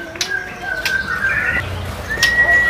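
A white-rumped shama calls with clear, bright whistled notes and short chirps, close and loud, over faint background noise.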